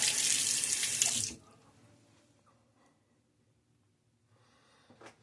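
Tap water runs hard into a sink for about a second and a half during a wet shave with a Gillette Nacet blade, then cuts off, leaving quiet room tone and faint handling sounds.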